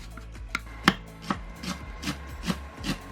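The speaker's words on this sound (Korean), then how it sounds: "대파는 잘 풀어지도록 세로로 길게 반 가르고 최대한 작게 작게 썰어주세요." Green onion, split lengthwise, is chopped small with a knife on a cutting board, giving about eight crisp, separate knocks at an uneven pace, close and fairly loud, with no talking.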